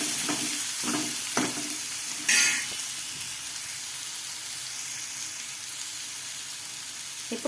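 Chopped onions dropped into hot oil, frying with a steady background sizzle and a few sharp scraping strokes of stirring near the start, alone with no talk.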